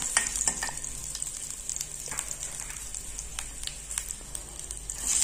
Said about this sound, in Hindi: जैसे ही ज़ीरा हल्का सा फ्राई हो जाए, उसमें मैं डालूँगी चॉप किया हुआ गार्लिक या लहसुन।